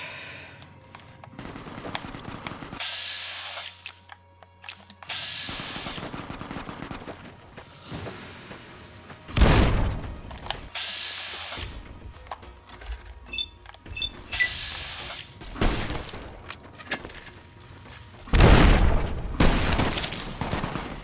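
Frag grenade explosions in Fallout: New Vegas, several separate deep blasts with sharp onsets, two especially loud, scattered between bursts of gunfire and quieter game sounds.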